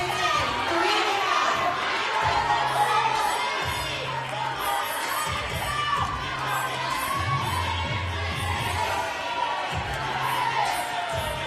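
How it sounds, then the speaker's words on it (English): A crowd at a fitness competition chants rep counts in rhythmic bursts and cheers loudly. Shouts and whoops repeat every second or so, with a voice talking over the noise. "the crowd is counting for other people"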